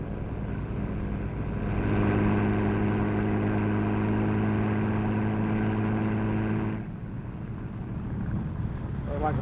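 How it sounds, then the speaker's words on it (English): A boat motor drones steadily in the distance, a low even hum that swells for several seconds and then cuts off. "Like a boat."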